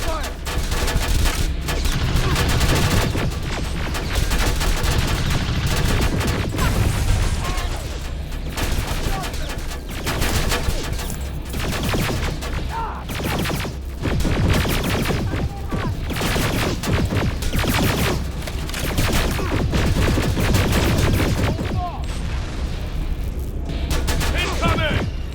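A heavy firefight against machines in Terminator: Resistance, with dense, continuous gunfire and booms rolling on for about 25 seconds. Shouting voices are mixed in among the shots, and the whole scene stays loud and close throughout.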